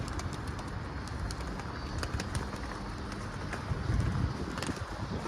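Pigeons coo low and steadily close by in a coop, several birds together, over a rustling background with occasional clicks.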